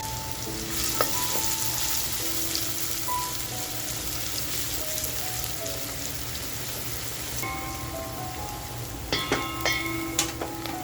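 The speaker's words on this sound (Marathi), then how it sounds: "जो कांदा कापून घेतलाय तो छान आपल्याला याच्यामध्ये फ्राय करून घ्यायचा आहे" Chopped onion fries in hot oil with cloves and black pepper, a continuous close sizzle with crackling pops and occasional stirring clinks against the pan, no voices.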